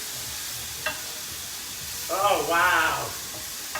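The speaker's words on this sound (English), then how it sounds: "So there we are, sizzling up," Tomatoes sizzle in a frying pan for a Mediterranean-style dish, a soft steady frying hiss that swells briefly louder midway, with a short exclamation over it.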